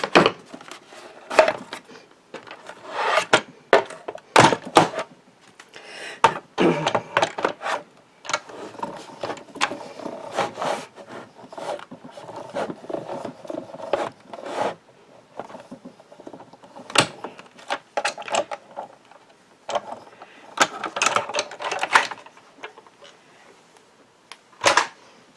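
Hand-cranked card embossing and die-cutting machine pressing a card front with an adapter plate and rubber mat, giving close, irregular mechanical clicks, clacks and rolling grinds that come in uneven bursts with quiet gaps.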